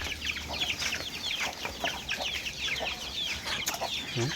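Farm fowl clucking and calling in a busy, moderately distant chorus of short overlapping cries, with no talk.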